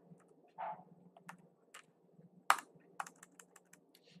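Computer keyboard keys pressed one at a time in an office software program, including the space bar and the enter key, with sharp separate clicks at an uneven rhythm, close and fairly quiet over a low steady hum.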